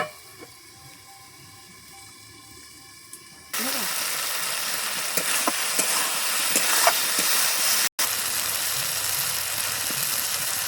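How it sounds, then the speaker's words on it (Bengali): Boiled potatoes and bottle gourd dropped into spiced oil and sautéed, a quiet pan that suddenly bursts into a loud, steady sizzle with occasional stirring clatter and a brief cutoff near the end. "এখন সিদ্ধ রাখা আলু আর এই যে লাউ একসাথে দিয়ে দিব। ঢাকা দিয়ে কষিয়ে নেব।"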